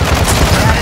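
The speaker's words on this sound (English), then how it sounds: "He's shooting at me." Gunfire in Warzone Resurgence, a short loud burst of rapid shots, close and dense, lasting under a second.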